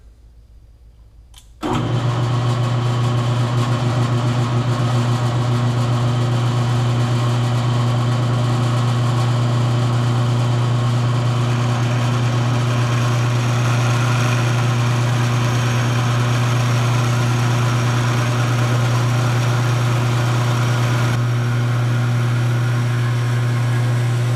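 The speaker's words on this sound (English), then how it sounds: "I've got the lathe set to 600 RPM, so I'm just going to let it rip." A lathe set to 600 RPM switches on after about two seconds of near silence and then runs steadily with a loud, constant mechanical hum and whine until the end, with no speech.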